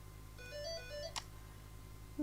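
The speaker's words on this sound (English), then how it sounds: "Someone ringing me on the phone." A phone ringtone plays a short, faint electronic melody of rising and falling notes over low background hum, followed by a brief click.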